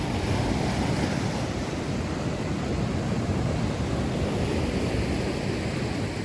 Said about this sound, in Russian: Смотри, какая волна идет.